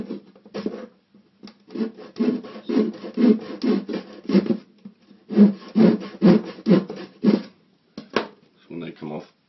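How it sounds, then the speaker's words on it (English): A small bladed fret saw cuts protruding parts from a Spitfire scale model section, giving repeated short rasping strokes in rhythmic bursts with brief pauses, close and fairly loud. "any remaining protruding parts from that section using a small bladed fret saw"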